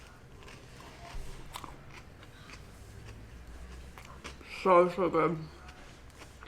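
Someone bites and chews crispy food from a healthy lunch with hummus and vegetables, with a burst of close crunches near the end, under soft talk.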